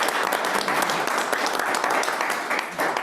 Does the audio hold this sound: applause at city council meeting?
yes